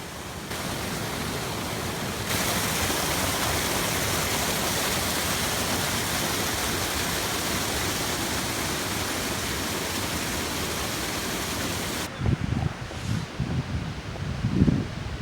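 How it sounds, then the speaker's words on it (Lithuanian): Steady broadband rush of a forest stream flowing below a waterfall, continuous and fairly loud for most of the stretch, then thinning near the end as closer splashes, footsteps or handling bumps break through. "Tikrai ne prie krioklio, o prie krioklio upelis."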